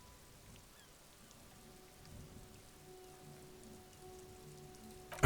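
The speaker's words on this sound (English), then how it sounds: "The only thing you can hear now is static and waves washing ashore on the bay." Faint radio static hums over the gentle wash of waves on a bay in Disco Elysium, a quiet steady hiss with a thin tonal whine, ending in a brief louder bump.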